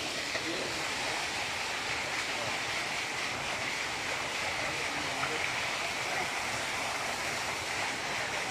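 Mountain stream water rushing steadily up on the mountain at barangay Pangpangon, a constant broadband wash that fills the whole stretch without break, with faint voices underneath.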